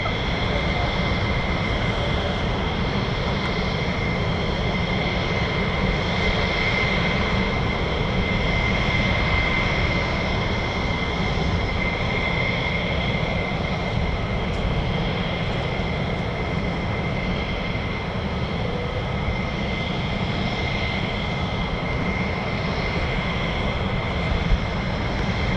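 A US Air Force F-15 fighter's jet engine roars steadily at RAF Lakenheath, home of the 48th Fighter Wing, a loud continuous rumble with a high whine that holds without a break and no voices.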